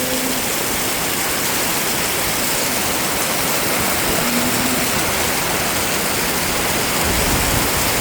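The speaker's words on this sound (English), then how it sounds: "it just cut loose, and I mean, it is pouring down rain." Heavy rain pours down steadily on a farm during fall corn harvest, a loud, dense, constant hiss close by with no talking.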